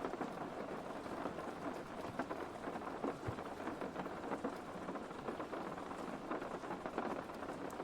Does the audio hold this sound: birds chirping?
no